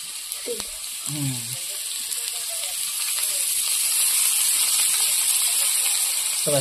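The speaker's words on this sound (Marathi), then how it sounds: "तेलामध्ये कांदा व्यवस्थित परतून घ्यायचा आहे" Onion frying in oil in a pan over a wood-fired clay stove while cooking a monsoon wild greens dish, a steady bright sizzle that builds gradually, with a few brief stirring scrapes and voices near the start.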